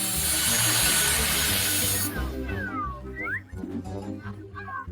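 A saw grinds back and forth through hard food in a kitchen, a rough rasping that runs loud and continuous for two seconds, then stops and gives way to lighter scraping, squeaks and handling noises.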